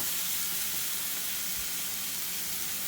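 Food sizzling on a stovetop, a dense, even hiss of frying that holds steady and loud throughout, close up with no voices.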